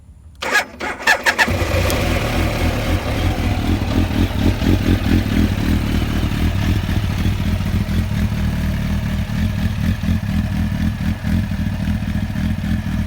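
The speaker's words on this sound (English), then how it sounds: "this is a 200 mile an hour bike out the factory. So yeah, let me crank it." A 2000 Kawasaki ZX12R sport motorcycle engine cranks and catches, then settles into a steady, throaty idle that runs on without a break.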